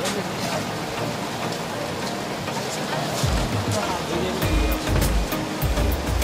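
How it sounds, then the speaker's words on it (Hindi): Heavy rain pours steadily on arrival at a resort in Jim Corbett, a dense hiss throughout, with voices talking over it and low thumps toward the end. "भाई बहुत तेज बारिश जा रही है."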